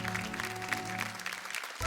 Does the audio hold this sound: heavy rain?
no